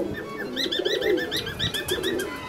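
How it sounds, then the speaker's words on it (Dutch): Birds in an aviary, with repeated soft pigeon- or dove-like coos and brighter chirping calls overlapping in a busy, close chorus. "Zo'n volière voor je neus. Het hele vogelorkest voor je neus, achter het gaas."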